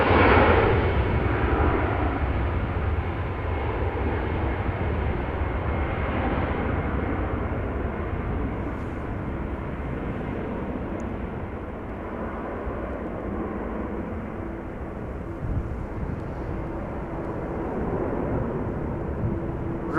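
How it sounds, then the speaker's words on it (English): An ITA Airways airliner on flight 121 to Milan passes at Amsterdam Schiphol, its engine roar loudest at the start, then settling into a long, slowly fading rumble with occasional low thumps, and no speech. "ITA Airways flight 121 going to Milan"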